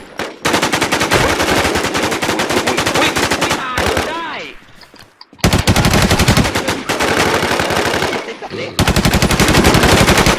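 Rapid automatic gunfire in the survival shooter Infestation, long loud bursts of dense shots that break off briefly and then resume just as hard, with a voice heard faintly underneath.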